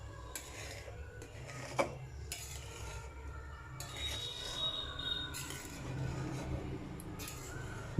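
A spoon stirring fried vermicelli into boiling milk in a metal pot, giving intermittent scraping and clinking against the sides with soft bubbling underneath, close and fairly quiet.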